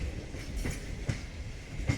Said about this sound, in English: behind that local train is passing through a passenger line to